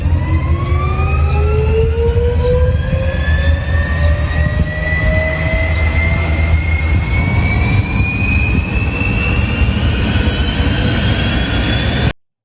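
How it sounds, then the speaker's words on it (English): Jet engines give off a loud, continuous roar with a whine that climbs steadily in pitch for about twelve seconds and then cuts off abruptly, with no voices. "the noise made by the jet engines"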